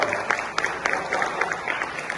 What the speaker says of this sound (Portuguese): Salve de palmas para a pergunta, ótima!